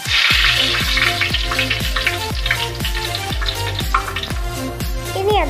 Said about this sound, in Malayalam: കടുക് പൊട്ടി തീർന്നതിന് ശേഷം അതിലേക്ക് കുറച്ച് ചുവന്ന മുളക് ഇട്ട് കൊടുക്കണം